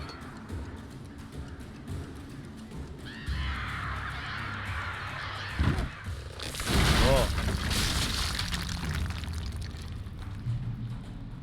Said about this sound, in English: I'm killing the birds. Birds!